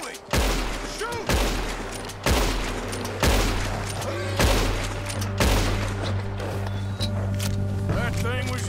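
Gunfire in the Red Dead Redemption 2 video game: a run of loud, close shots fired roughly once a second against a steady low engine-like rumble, with a voice talking over it.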